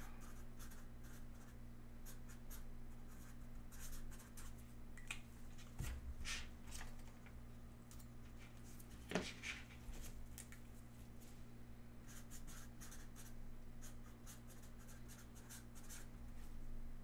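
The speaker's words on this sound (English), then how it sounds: "Write this down real quick." Pen writing by hand on paper during a football trading card box break, with faint scratchy strokes in quick irregular bursts close to the microphone over a steady low hum.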